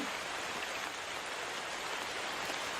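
Rain falling as a steady, even hiss of drops, quite faint and unbroken, with no voices over it.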